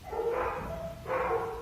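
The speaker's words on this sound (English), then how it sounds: "That was a lot of barking." Dogs barking, heard as playback from another video: two loud bursts of barks and yips, separated by a short pause, with no talk over them.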